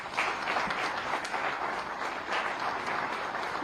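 An audience applauds steadily at an investors' meet in Lucknow, a dense, continuous wash of many hands clapping at a moderate distance with no voices standing out.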